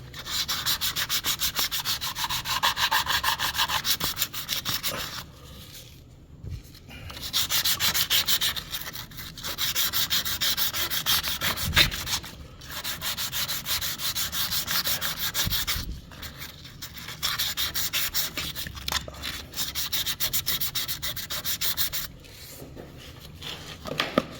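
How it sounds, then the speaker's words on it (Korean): Sandpaper rubs back and forth over a welded joint on copper pipe in long, rhythmic scraping strokes, with short pauses between bursts of sanding. "사포로 용접 부위를 깨끗이 밀어주고"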